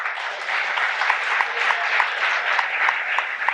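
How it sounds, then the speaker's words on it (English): Dense, sustained applause fills a school sports awards assembly, many hands clapping together at a steady moderate level without a break. "Let's hold the applause till the end."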